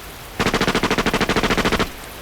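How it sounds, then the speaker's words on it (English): A rapid burst of automatic gunfire in a combat scene, about twenty evenly spaced shots in under two seconds, loud and close over a steady background hiss. "he heard the first sounds of gunfire"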